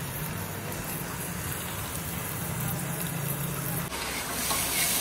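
Pointed gourd, okra, papaya and beans fry in a pressure cooker with onion and five-spice seeds, giving a steady close sizzle throughout with a faint clatter near the end.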